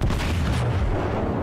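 Heavy torpedo blasts rumble through a naval battle in the video game War Games, a dense, continuous low boom filling the whole short stretch at steady loudness.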